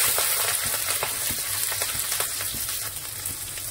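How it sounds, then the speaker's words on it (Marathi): Onion, tomato, ginger and garlic fry in oil with cinnamon, cloves and black pepper, producing a dense, loud sizzle broken by frequent popping crackles and stirring scrapes. "आले लसूण हे सगळं व्यवस्थित आपल्याला भाजून घ्यायचं।"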